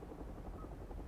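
Distant helicopter in the video game Hell is Us, a steady low rotor rumble and drone holding evenly throughout without any voices.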